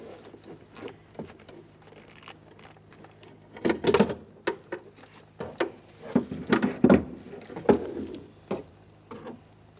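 A window regulator assembly is worked loose and pulled out through the lower opening of a 2012-2015 Honda front door, giving irregular clunks, rattles and scraping of metal against the door panel, growing louder midway, with no talking.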